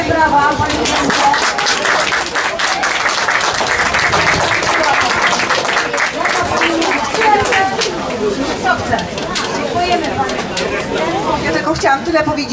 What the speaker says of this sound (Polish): wielkie brawa pani Janko